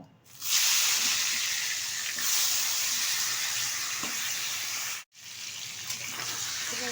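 Steady hiss of katla fish heads coated in salt and turmeric frying in oil, loud and continuous, with a brief cut to silence around the five-second mark before the sizzle resumes.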